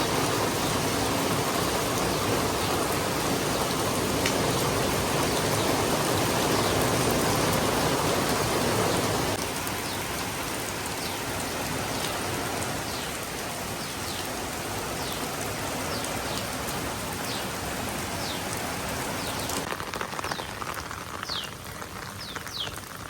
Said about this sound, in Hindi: आजकल लाहौर में मौसम बहुत ज़्यादा प्यारा हुआ है, बारिशें हो रही हैं